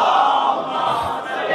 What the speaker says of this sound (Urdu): اس سے بلند صلوات نبی